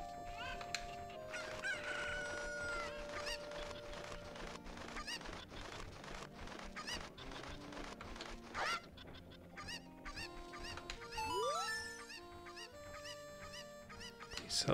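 Chickens crowing and clucking in the game Ocarina of Time, repeated rooster-like calls and squawks over game music, fairly quiet and steady, with a rising squawk late on.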